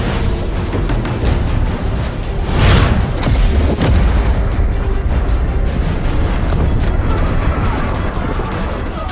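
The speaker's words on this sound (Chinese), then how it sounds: "炮锁定，开火！" In an anime battle, a cannon fires and explodes with a heavy booming blast partway through, then a sustained roaring rumble that stays loud throughout.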